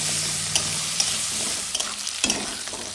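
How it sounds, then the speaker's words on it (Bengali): Fish head and spinach fry with turmeric and salt in a pan, a close, continuous sizzle broken by a few soft knocks and scrapes of stirring. "এবার ভালোভাবে মিশিয়ে নেব।"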